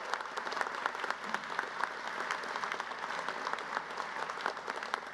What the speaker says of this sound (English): I'd like us to all give a giant round of applause to Bridget Kerwin